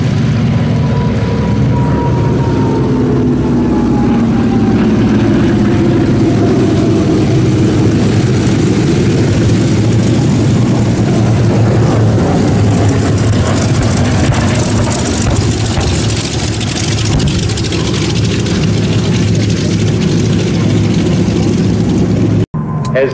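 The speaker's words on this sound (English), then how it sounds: "These are radial piston engines," A loud, steady air-cooled radial piston engine on a propeller aircraft drones continuously nearby, its heavy low rumble holding throughout, with a faint rising whine early on.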